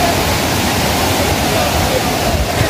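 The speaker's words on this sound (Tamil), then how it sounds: "எவ்வளவு தண்ணி ஓடிக்கிட்டு இருக்குன்னு பாருங்க" Aagaya Gangai waterfall in the Kolli Hills, a loud, steady roar of rushing water that fills the whole clip with dense, unbroken noise.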